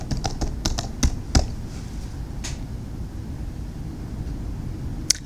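Fingers type on a computer keyboard, close and soft. A quick run of crisp key clicks comes first, then the tapping thins to a few scattered presses over a quiet background.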